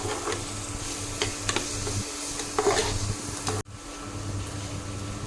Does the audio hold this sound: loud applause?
no